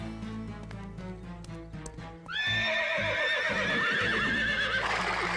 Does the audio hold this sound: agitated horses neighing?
yes